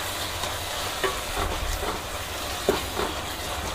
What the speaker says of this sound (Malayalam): നന്നായിട്ടൊന്ന് ഇളക്കി എടുക്കണം